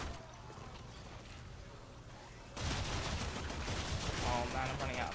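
Rapid assault rifle fire in the video game Warframe cuts in abruptly halfway through as a loud, dense stream of shots, following a quieter stretch of low background ambience.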